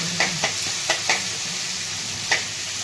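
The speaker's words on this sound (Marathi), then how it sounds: "टमाटर परतत आलं का थोडीशी मिरची टाकून घ्यायची. त्यामध्ये थोडीसा तळून घ्यायचं." Tomato and chili sautéing in a pan for a capsicum-potato dish: a loud, close sizzle with five or six quick scraping stirs in an uneven rhythm.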